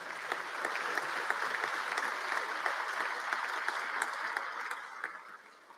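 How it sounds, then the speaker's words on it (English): Sustained audience applause at a governor's State of the State address, a dense steady clatter of many hands filling a large hall, holding level before tapering off at the end. "So let's again give them a round of applause."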